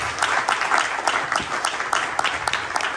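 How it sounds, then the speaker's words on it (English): A crowd applauds steadily at a congressional candidate forum, a short burst of dense clapping filling the space at moderate loudness. "Final round of applause."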